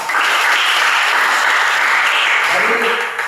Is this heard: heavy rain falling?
no